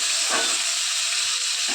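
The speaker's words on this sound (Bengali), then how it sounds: "তো এবার তেলে দিয়ে দিলাম, ভালো করে এটা ভেজে নেব" Googli snails frying in hot oil in a pan, a steady, loud sizzle and hiss running throughout, close by.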